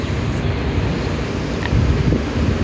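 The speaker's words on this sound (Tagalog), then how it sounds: "Kasalukuyan pong malamig ang simoy ng hangin." Cool wind blowing across a rooftop in Jeddah, a steady broadband rush buffeting the microphone, continuous and fairly loud with no voices.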